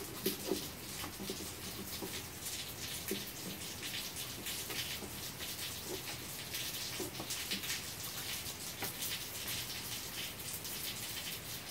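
Steady rain falls outdoors after a lightning storm interrupts mowing, a continuous broadband hiss with scattered patter and drips at close range, moderately loud and with no talking.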